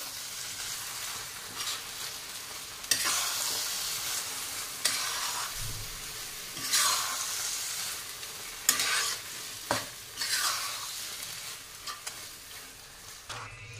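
Pav bhaji being stirred in a pan, the spatula scraping and slapping repeatedly over a low sizzle, close and fairly loud throughout.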